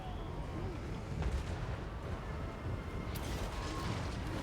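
Grudge throwers fire artillery in the Total War: Warhammer 3 battle game, with heavy thuds and booms rolling over a constant din of fighting and one sharper crash near the end.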